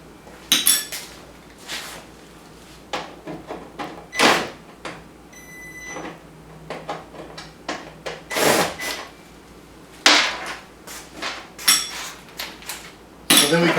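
Torx T20 screws being backed out of the bed corners on a Wildcat Sport side-by-side, heard as scattered metallic clinks, taps and rattles of the driver and loose screws, close by, with no speech.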